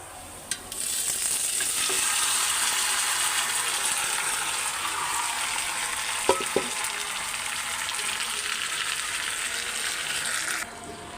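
Goat meat frying in oil with fried onions, a loud continuous close sizzle that holds steady for about ten seconds, with a couple of brief clinks partway through before it cuts off.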